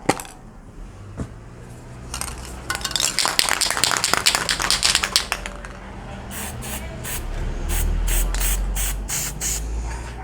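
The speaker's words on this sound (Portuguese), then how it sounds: "Pegar o spray preto e vou cobrir um pouquinho" Black spray paint hisses from an aerosol can onto a computer case being modded, first in a long steady spray with rattling bursts, then in several short close pulses.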